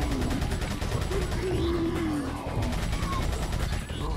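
Dense, continuous gunfire and combat noise from the Resident Evil 4 video game, loud and steady throughout, with sustained layered shooting and game sound effects.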